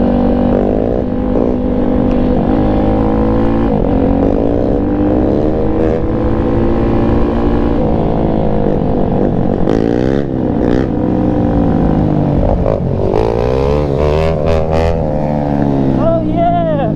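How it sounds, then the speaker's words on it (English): A cheap Chinese Apollo/Tao Tao dirt bike engine on a trail ride, revving loudly and continuously with rising and falling pitch as the clutch is dumped, with people talking over it. "you can hear him rev it up a little bit before he starts popping it"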